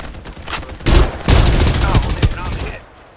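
Gunfire in the video game Farlight 84 rattles out in loud, close, rapid bursts of shots that fill nearly the whole moment.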